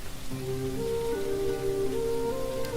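Steady rain falls outdoors, a continuous wash of drops with a sustained tonal hum running over it throughout.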